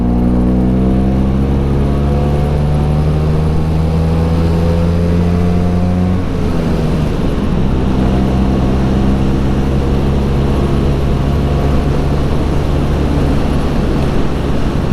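A 1979 Vespa scooter engine drones steadily while being ridden at cruising speed, loud and continuous with a shift in pitch around the middle as it changes gear, then settling back into a steady hum.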